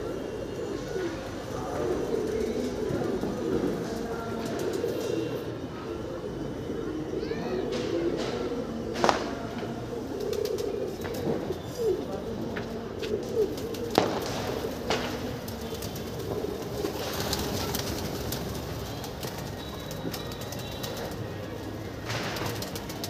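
Pigeons kept by a pigeon fancier cooing in low, repeated murmurs against a busy outdoor background with occasional sharp knocks, moderately faint throughout.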